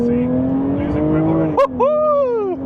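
A Jaguar F-Type's wheels spin and lose grip under acceleration, its engine drone rising in pitch with a brief squeal as people talk over it inside the cabin.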